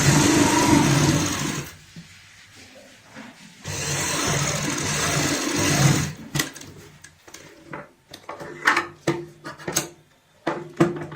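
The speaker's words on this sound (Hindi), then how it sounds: "अब हम इसमें भी इस तरीके से यहाँ पे सिलाई लगाएंगे।" A sewing machine runs in two steady bursts while stitching a strip onto a handmade doormat, followed by clicks and handling of the fabric, close up with no talk.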